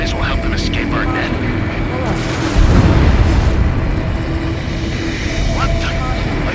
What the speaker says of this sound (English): A huge explosion just went up underwater.